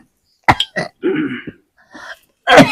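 A person coughs and clears their throat in a few separate bursts, loud and close, with short pauses of silence between them and no talking.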